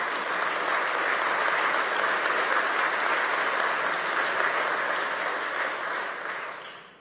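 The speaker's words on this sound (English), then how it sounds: "Applaud yourselves." Kansas legislators fill the chamber with dense, steady applause during the 2020 State of the State address, holding at full strength before fading out at the end.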